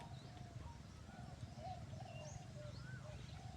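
A zebra dove coos faintly in the distance, soft repeated calls over a constant low hum of background noise, with no clear talking.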